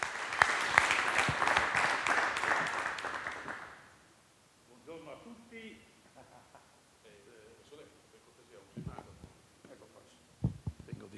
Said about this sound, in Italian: fategli un applauso